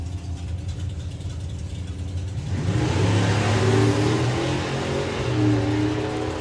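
Drag race car at the NSRA Nostalgia Nationals launching off the line in a wheelie, the engine idling roughly, then surging into a loud, sustained roar that holds strong at a distance, with no voices.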